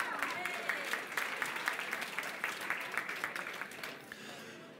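Audience applause at a charter auction in Lincoln after a lot sells, a moderate, steady clapping from a modest room that gradually thins and fades near the end.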